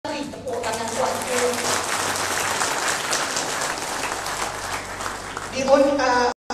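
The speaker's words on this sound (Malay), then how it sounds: "Tepuk tangan kuat." Audience at a political panel forum in Malaysia breaks into sustained applause for a panelist, dense clapping filling several seconds, with a voice briefly heard before it and a burst of talk near the end.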